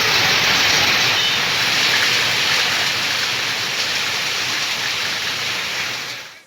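Heavy rain pouring down during a thunderstorm, a dense, loud, continuous hiss of downpour with no distinct thunderclap, fading out at the very end.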